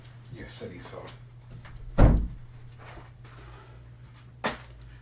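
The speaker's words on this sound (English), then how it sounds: "Opens the door and whacks the dog in the face" A door swings open and thumps into a dog, one heavy close knock in the middle of a room, followed later by a fainter tap, with a person talking quietly throughout.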